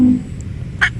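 A duck animal toy gives one short, bright quack near the end of a quiet second.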